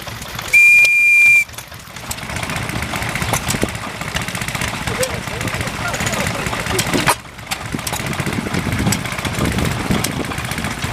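One short, high whistle blast near the start, followed by a steady rumbling engine with some background voices at an old-time power and equipment show.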